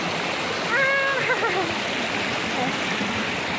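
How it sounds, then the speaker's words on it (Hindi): Water flows down from higher ground in a steady, loud rush past a village bathing and washing spot near farm fields, while someone speaks briefly over it. "ऊपर से आ रहे हैं पानी, और आजकल तो और भी ज़्यादा परमानेंट पानी है ये हमारा"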